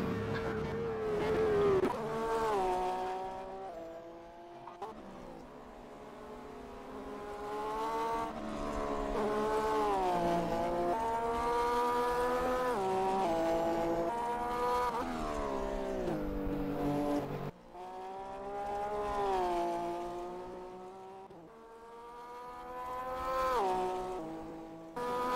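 Race cars lap the Kyalami circuit in a sim racing game, Sideways GT Series, engines whining and rising through gears as they corner and accelerate, several buzzing cars layered together in steady revving waves with no talk.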